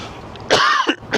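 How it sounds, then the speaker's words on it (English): A single harsh cough followed by a short throat-clearing rasp, close and loud outdoors at Las Vistas beach. "I'm getting a cough now."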